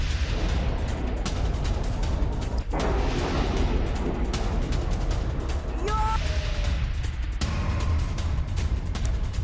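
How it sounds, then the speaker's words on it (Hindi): Israeli air defense intercepts a missile over central Israel: dull booms and sharp bursts cut through a constant roaring wash of noise, with muffled voices in the background. "सेंट्रल इजराइल पर मिसाइल से हमला हुआ है। इजरायली एयर डिफेंस ने इस मिसाइल को तबाह किया।"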